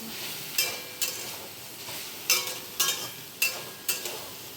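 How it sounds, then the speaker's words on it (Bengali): Potatoes and soybeans sizzle steadily in a frying pan, broken by several sharp scraping stirs of a spatula at uneven intervals, close by and with no talking. "আলু সোয়াবিনটা ভেজে নিচ্ছি"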